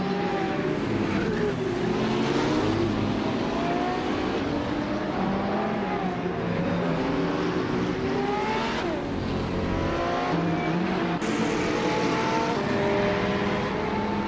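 GTE class race cars in a racing video game, including a Chevrolet Corvette C7R, roar continuously as engines rev and shift, with cars sweeping past at close range.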